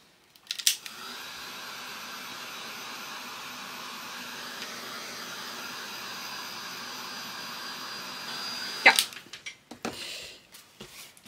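Heat tool warming Distress Spray ink on paper, a steady airy blowing hum that runs for about eight seconds, bracketed by clicks as the tool switches on and off.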